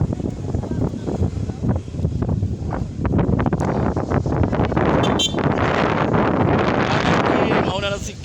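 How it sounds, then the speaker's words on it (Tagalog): Wind gusts buffet an outdoor microphone at the Quintinan Ruins in Camalig, Albay, a loud steady rumble throughout with voices speaking over it. "Salamig kay sa hangin."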